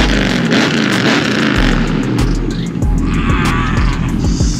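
A Hellcat car's engine roars and revs loudly up close as it pulls up, a deep continuous rumble with throttle surges and clattery mechanical noise throughout.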